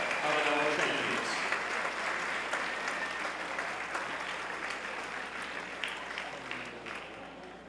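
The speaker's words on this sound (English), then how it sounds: "How about a round of applause for all of our award winners and all of our champions" An audience at a high school sports awards banquet applauds its award winners and champions, a loud, dense wash of many hands clapping that holds steady for several seconds with scattered voices mixed in.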